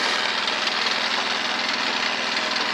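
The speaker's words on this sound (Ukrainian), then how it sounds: "Насос працює." A water pump runs off a generator, giving a steady, close engine drone with a fine rapid pulsing and no pauses.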